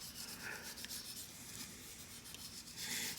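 Rust rubbed off the door handle of a 1969 Ford F100, a steady low scrubbing rasp with faint repeated strokes, quiet and close with no talk.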